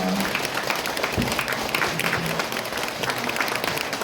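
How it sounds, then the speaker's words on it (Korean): A crowd claps steadily and moderately loudly at a Buddhist bodhisattva precepts ceremony in Korea, with a voice faintly audible beneath the clapping. "정사 선생님들께 큰 박수 부탁드립니다"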